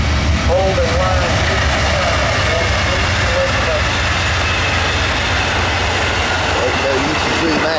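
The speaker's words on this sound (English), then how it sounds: "This would be NS019 Amtrak 19, the Crescent." Amtrak 19 Crescent passenger train led by two P42DC diesel locomotives passing near Wellford on a foggy morning, a loud steady engine roar that fills the whole stretch.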